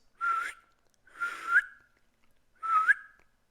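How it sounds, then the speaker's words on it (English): A person whistles to call a cat outdoors at night, three separate sharp whistles each rising in pitch, the second drawn out into two parts, loud and close against near silence. "that's kind of the only whistle I need, because it's a good calling whistle"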